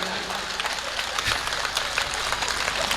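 An audience at a comedy poetry show claps in a steady, dense round of applause, mid-distance and continuous, without a clear peak or ending.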